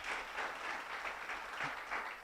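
A church congregation claps together in a steady, even round of applause that fills the room from start to finish.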